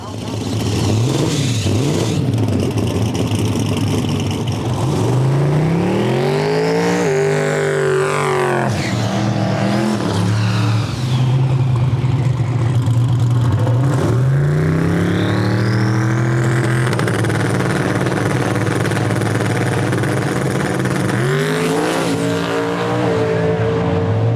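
Drag racing cars launch and accelerate down the strip at a drag-and-drive event, engines roaring loudly with rising and falling revs through gear changes as a second pass sweeps by, with a continuous heavy engine drone throughout.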